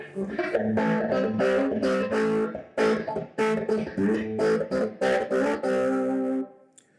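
Electric guitar played through a Matchless SC30 tube amp, a lightly driven riff of picked notes and short chords with brief gaps, fairly loud and close.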